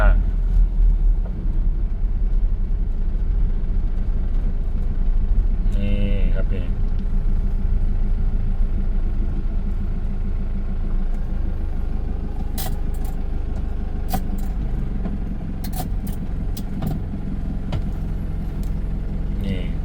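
An Isuzu TFR pickup truck engine idles with a steady, loud low rumble that runs unbroken throughout, while a voice speaks briefly near the middle.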